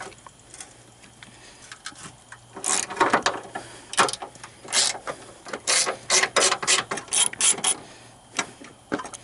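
Ratchet wrench loosening a 13mm bolt on the alternator of a Chevy Impala with a 3.6L V6, loud close rapid clicking in repeated bursts of strokes.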